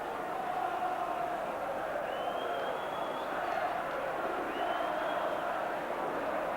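A big football stadium crowd of around 45,000 at a 1989 Manchester United v Liverpool league match, a steady distant roar and murmur throughout with a few faint whistles and calls rising above it.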